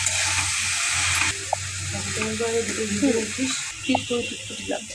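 Shrimp tipped into chopped banana flower in a hot pan, sizzling and frying steadily throughout with stirring scrapes, while someone talks over it.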